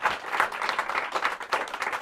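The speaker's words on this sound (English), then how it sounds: "So please give a big round of applause for Bill." Sustained applause from an audience honoring a lecturer named Bill, a dense, steady wash of many hands clapping without a break for about two seconds.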